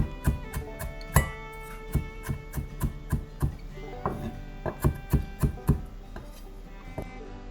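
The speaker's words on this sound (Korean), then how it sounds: "홍고추도 썰어 넣겠습니다." A knife chops red chilli on a cutting board in a series of sharp, fairly regular knocks, some louder than others, close by with a faint background hum and no talk.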